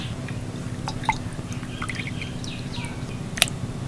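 Lote fish are rinsed in water in a basket, giving soft scattered drips and splashes with a couple of sharper clinks over a steady low background hum, with no talking.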